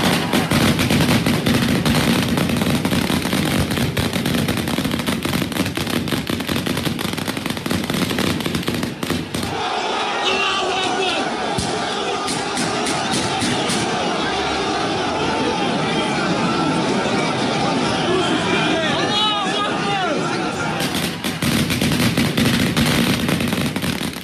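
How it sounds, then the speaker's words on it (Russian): Gunfire shot into the air in Magas, Ingushetia, heard as dense rapid bangs and crackling bursts through a loud crowd, with shouting and chatter throughout. "При этом вчера даже стрельба была слышна в Магасе"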